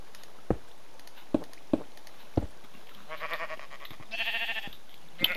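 A sheep bleats in a blocky farming video game, heard as a few short bleats after several sharp clicks of in-game actions, with no talk.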